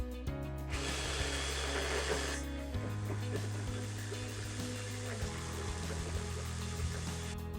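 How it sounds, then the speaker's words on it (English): A blender blitzes beet risotto ingredients, a steady loud motor whir that shifts pitch as the load changes, running continuously throughout with no talk. "For now we're going to close it, attach it and blitz it"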